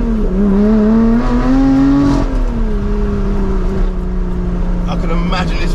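A supercharged Lotus Exige engine drones loudly and steadily up close, swelling slightly around the two-second mark before settling into an even, throaty hum.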